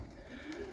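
Young roller pigeons coo softly in a short, low murmuring burst, faint and close, with a brief rustle partway through.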